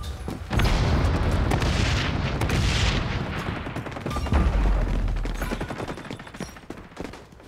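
A grenade blast in the shooter game XDefiant, loud booming explosion and rattling gunfire sustained over several seconds, dense and close.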